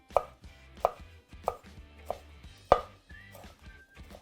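Knife chopping Cheongyang chili pepper on a cutting board, with about six crisp, evenly spaced chops close by, one landing harder than the rest, and no talking.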